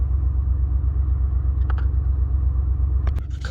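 The 5.0 V8 of a 2015 Ford F-150 idles after a throttle body and brake switch replacement, giving a steady, low, pulsing rumble close by with a few faint clicks near the end.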